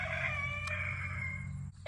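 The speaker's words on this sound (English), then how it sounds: "And there would be a chicken in the way." A rooster or chicken calls in a sustained, tonal cry outdoors, fairly close and alone, with a low steady background rumble underneath and a brief noise near the end.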